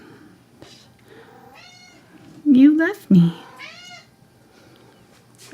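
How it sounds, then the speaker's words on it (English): A pet cat named Cashmere, left outside, meows loudly twice in close succession near the listener, with people talking softly around the calls. "It's our cat."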